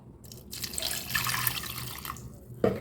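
Water poured over tamarind in a bowl to soak for a village-style okra tamarind curry, a close splashing pour lasting a couple of seconds before a small clink at the end.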